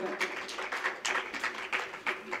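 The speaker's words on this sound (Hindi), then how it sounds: "जोरदार तालियों से स्वागत" Audience clapping at a school talent award ceremony as a guest is welcomed with garlands, coming in uneven bursts of applause with an announcer's voice running over it.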